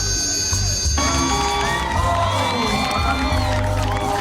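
A loud crowd at a beauty pageant cheers and whoops, with high shouts and excited voices layered over a dense, continuous roar.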